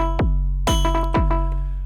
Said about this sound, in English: we've just turned that clap from a clap, you know, almost into a like a synth sort of sound